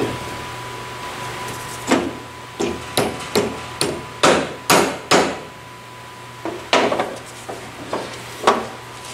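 Repeated hammer blows on a bearing of a zero-turn mower deck, a sharp metallic strike roughly every half second in two bursts, close and loud with short ringing decay and no talk.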